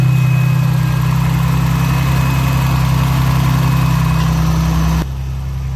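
A car engine idles steadily after a cooling fan repair with a viscous fan and an added Spal electric fan, a loud continuous low hum that drops slightly in level near the end.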